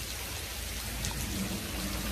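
Heavy rain pours down steadily on a bridge during a crappie fishing trip, a dense, even hiss that stays loud and unbroken throughout.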